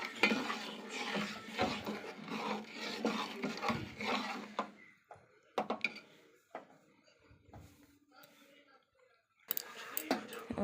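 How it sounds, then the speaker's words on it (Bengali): Payesh, a rice pudding with cashews and raisins, stirred in a pot with a spoon, giving scraping and clinking strokes that turn sparser, with a few isolated clicks and a faint sizzle before stirring resumes at the end. "কাজু কিশমিশ দিয়ে দিলাম, নেড়ে দেবো ভালো করে।"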